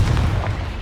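Confringo explosive spell in Hogwarts Legacy, a loud, close, heavy low boom with a rumbling burst, very short and alone.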